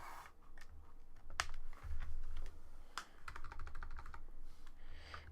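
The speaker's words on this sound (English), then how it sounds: "I don't know what's going on with my keyboard" Typing on a computer keyboard, a quick, uneven patter of keystrokes with a few sharper taps, heard close over a low background hum and not under speech.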